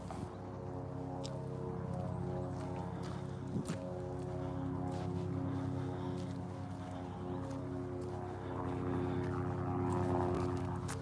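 A low droning helicopter engine hum, steady and moderately distant, rising and falling slightly as it passes overhead; a sharp knock near the middle.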